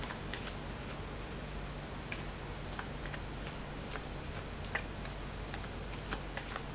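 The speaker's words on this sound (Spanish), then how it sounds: "Cuando tú me digas, dejo de barajar." Tarot cards are shuffled by hand in quiet, continuous soft riffling with small crisp snaps scattered through it over a faint low hum, close and without speech.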